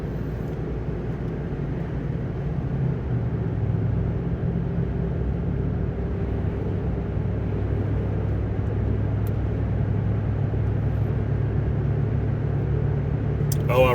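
A 2004 Dodge Ram 1500 with a 287 V8 and cold air intake drives along at a gentle pace, a steady low engine drone and road rumble heard from inside the cab.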